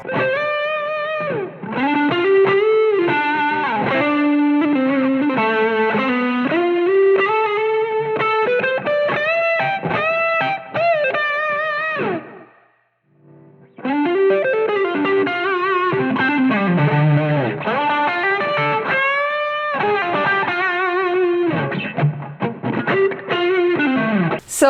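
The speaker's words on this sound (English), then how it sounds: "Then after all those drives we have delay, so this is how it sounds like." An electric guitar plays expressive sustained lead lines through stacked overdrive pedals followed by delay, a smooth singing distorted tone with echo trails, loud and alone, pausing briefly midway before resuming.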